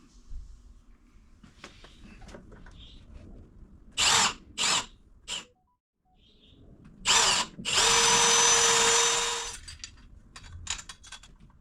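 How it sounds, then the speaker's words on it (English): Power drill boring holes for lag screws while mounting a wall tire rack, heard as several short bursts followed by one longer sustained whir, with a quiet pause in between, close and loud. "I'm going to make the other 3 holes and put in the other 2 lag screws"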